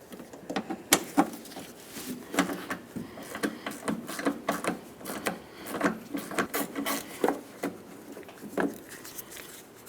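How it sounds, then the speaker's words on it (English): Filter and 10mm mounting bolt being removed from the leak detection pump on a 1994-2002 Dodge Ram 2500, giving close, irregular scraping, rubbing and clicking of parts handled at fairly low level, with no talk. "Remove that and then remove the filter."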